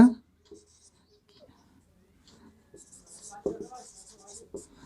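Pen or marker writing during a class 9 maths lesson on lines and angles, several short scratchy strokes spread across the stretch, close and moderately loud, alternating with a teacher's quiet speech.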